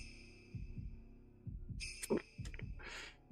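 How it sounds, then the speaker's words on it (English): A muffled heartbeat thuds in the Shadow Corridor horror game, slow paired beats repeating steadily while bright chimes ring out over the middle and the end. "There's a heartbeat and there's chimes going off."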